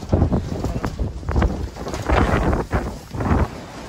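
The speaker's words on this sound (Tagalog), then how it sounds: "ang lakas ng hangin" Strong wind buffets the microphone on a farm in Kuwait, a loud, continuous rumbling roar that surges in gusts throughout.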